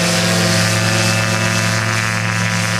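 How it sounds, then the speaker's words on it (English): A steady, loud engine drone with a propeller hum runs continuously without a break, close by and unchanging, from a SnoBird autogyro taxiing on a runway for takeoff. "Taking the runway, taxiing for takeoff, is Chris Burgess in the SnoBird Autogyro."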